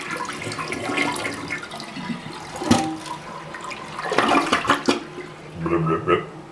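A newly installed toilet flushes with rushing, gurgling water in uneven surges, close to the microphone, with brief louder splashes and a refill near the end.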